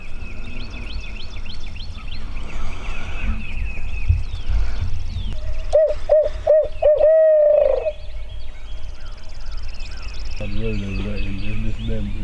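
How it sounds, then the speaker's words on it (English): A bird gives a short series of hooting calls and then a longer held call, over outdoor ambience, with people talking. "That's a bird."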